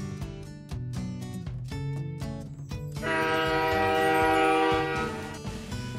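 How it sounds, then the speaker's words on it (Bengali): Howrah–Bikaner Superfast Express at a railway platform, with a horn blaring in a long loud blast after several short tonal hoots and rumbling rail noise. "প্ল্যাটফর্ম নাম্বার 8-এ আমাদের জন্য অপেক্ষা করছে হাওড়া বিকানের সুপারফাস্ট এক্সপ্রেস"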